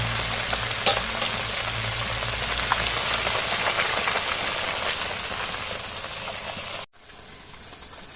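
Small puti fish sizzle and crackle steadily in hot oil, a dense, close frying hiss with occasional pops that cuts off abruptly near the end.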